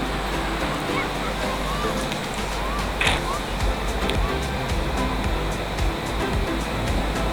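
Surf rolls continuously along the beach at Anyer, a dense, loud wash of breaking waves with low rumble and no clear pauses, faint voices mixed into the background.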